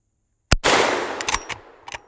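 A single sharp lever action rifle shot at a soda can target on an outdoor range, loud and close, followed by a ringing decay and a few fainter clicks or impacts.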